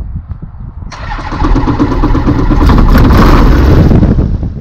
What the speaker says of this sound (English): I'm just going to detail the engine and then run it up